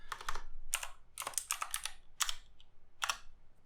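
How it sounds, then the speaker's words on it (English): Close, crisp keystrokes on a computer keyboard come in quick clustered bursts separated by short pauses, with no talking. "you want to type in Python"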